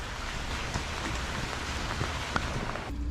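Steady rain falling outdoors in the early morning at a fishing lodge near an inlet, a dense continuous patter on surfaces throughout with a few louder drops, no voices.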